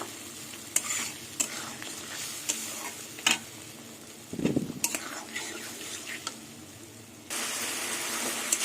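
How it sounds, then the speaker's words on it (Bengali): Spice paste for a potato and pointed gourd curry is sautéed in oil, a soft sizzle broken by repeated scraping and clinking of a spatula against the pan, the frying swelling louder near the end. "দেখুন মশলা কষাতে কষাতে তেল ছেড়ে দিয়েছে"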